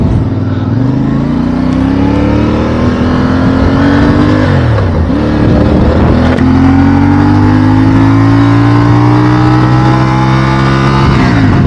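CFMoto 450MT motorcycle engine under way, loud and close, rising in pitch as it accelerates through gears, with brief dips at gear changes before climbing again, steady road noise underneath.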